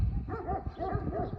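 Several farm dogs bark in quick succession at moderate distance in a Transylvanian village, with some overlapping from more than one dog.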